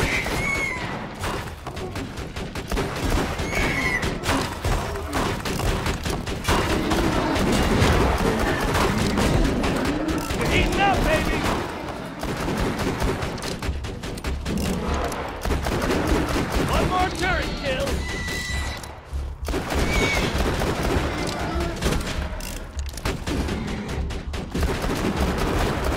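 A deployed turret in Borderlands 2 rattles off repeated machine-gun bursts amid other gunfire and thuds, dense and loud throughout, with talk mixed in.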